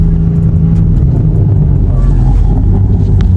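A loud, roughly 700 hp BMW M3 (G80) engine rumbles steadily at low revs around 1,000 RPM, with faint crackles and pops over the idle and a muffled voice in the background.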